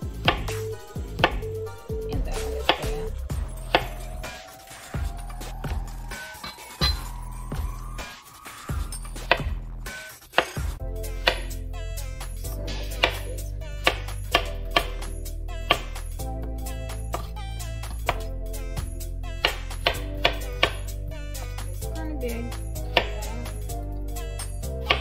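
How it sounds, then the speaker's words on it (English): Peeled plantains are chopped into small pieces with a knife on a cutting board, giving a run of crisp, evenly spaced chops close by, with no talking. "So we're just gonna cut them in small pieces."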